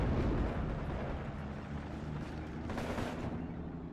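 Heavy gunfire from a Steel Division 2 multiplayer battle, a dense continuous roar of overlapping shots and distant artillery rumble with no distinct individual reports, steady and loud throughout.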